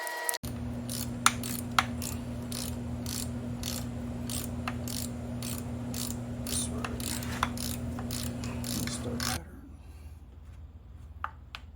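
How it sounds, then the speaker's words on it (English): Socket wrench ratcheting on valve cover bolts of a 2017 Kia Forte, a run of fairly regular close clicks over a steady low hum, stopping near the end. "I then proceeded to tighten the bolts, using the socket wrench, until they came to stop using very little force"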